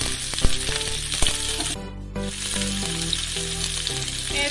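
Cut eggplant frying in a pan over a medium flame, giving a dense, steady close-up sizzle with a few light clinks and a brief dip in the hiss partway through; no one speaks.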